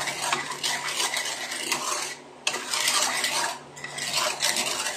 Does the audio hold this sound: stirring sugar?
yes